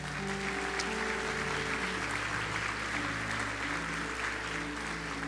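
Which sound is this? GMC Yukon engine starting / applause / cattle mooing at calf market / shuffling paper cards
applause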